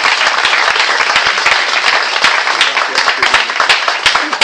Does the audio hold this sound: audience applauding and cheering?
yes